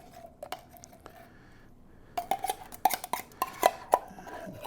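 Creamy soup with cream of celery goes into a bowl in a home kitchen: soft scraping, then a quick run of sharp spoon-on-dish clinks and knocks, close and clear, with no talking.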